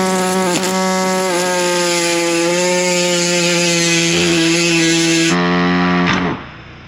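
Power tool blade grinding through a rivet on a Pontiac car, a loud, steady, harmonic whine that holds for several seconds before cutting off abruptly and fading.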